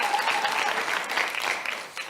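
An audience at a creative-industries networking social gives a steady round of applause, fairly soft and distant, a continuous patter of many hands lasting the whole moment.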